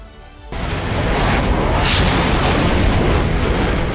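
A loud explosion of gunpowder bursts suddenly in Nagorno-Karabakh and keeps roaring, a dense rumbling blast with crackling debris that sustains for several seconds.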